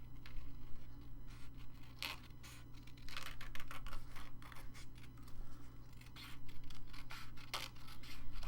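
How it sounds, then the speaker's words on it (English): Scissors snip paper for a fabric-covered junk journal, trimming off a section and fussy cutting around a border, with a steady run of close, crisp cuts over a constant low hum. "I'm going to cut off part of this. And then I'm going to fussy cut a little bit around here."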